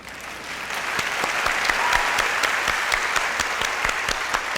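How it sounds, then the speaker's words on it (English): Crowd applause with distinct sharp claps cutting through a dense wash of clapping hands, rising quickly and holding steady and fairly loud throughout. "I'm clapping for my wife."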